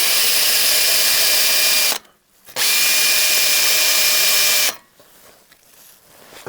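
Drill buffing the chassis of a 1968 Regal under rebuild, loud sustained high-pitched whir in two long runs split by a short stop, then a quieter tail.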